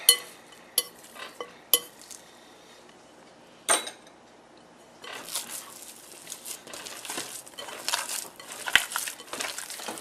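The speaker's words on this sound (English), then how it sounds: "Okay, more mixing is in order." A bowl of BBQ mini meatloaf mixture with eggs and oats is worked by hand and utensil. Sharp clinks against the bowl come first, followed by wet squishing and rustling mixing sounds, close and without speech.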